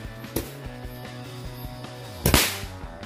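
Magic bar firecrackers go off in a string of sharp cracks, one loud burst near the middle standing out above the rest, with pops continuing after it and no talking.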